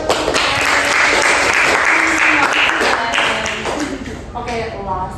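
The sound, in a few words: audience applause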